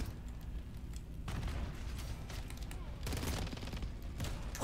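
Rapid bursts of gunfire from a shooter video game, dense fusillades in two main stretches with brief lulls between, fairly loud and sharp, with a voice talking faintly beneath.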